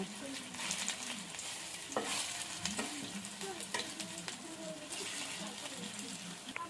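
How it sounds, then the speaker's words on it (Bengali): Cauliflower florets shallow-frying in oil in a pan over a low flame, a steady close sizzle with occasional clinks and scrapes as the pieces are turned. "আঁচটাকে একদম অল্প দিয়ে এপিট ওপিট করে সব পুরো পিস চারিদিক লাল লাল করে ভেজে নেব।"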